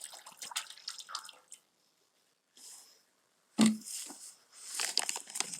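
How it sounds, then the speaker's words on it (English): Water pours from a bottle into a bucket for mixing non-sanded grout during a tub-to-shower conversion, in several splashing, gurgling bursts separated by short silent pauses, close and moderately loud. "what I'm gonna do is pour water in here"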